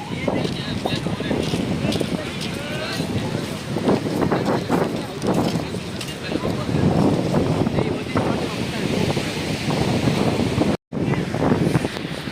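Sea waves and gusty wind at Porbandar Chowpatty beach on an overcast, rainy-looking day, a loud continuous roar with heavy wind buffeting the microphone and a brief dropout near the end.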